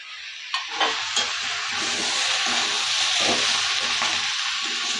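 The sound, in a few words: frying spices and vegetables for khichuri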